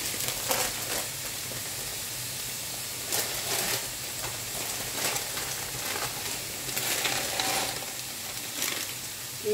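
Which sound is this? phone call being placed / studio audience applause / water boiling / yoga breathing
water boiling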